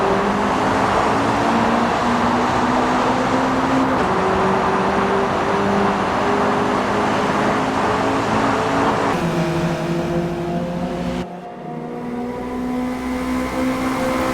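Race cars lap the Road Atlanta circuit during an all-star classic event, engines droning loud and steady with rising and falling pitch as cars pass, the tone shifting between gears, with no talk over it.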